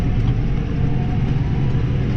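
A New Holland T6 175 Dynamic Command tractor engine runs steadily with a loud, continuous low rumble close by, holding an even drone with no speech.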